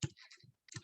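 Quiet computer keyboard typing while an address is entered into a form: a few soft, close clicks in two short bursts with a gap between.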